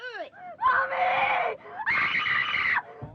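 A child screams loudly in two long, sustained bursts after a short wailing cry, close and distressed, tied to a scene of a child who has drunk chemicals and cries for their mother.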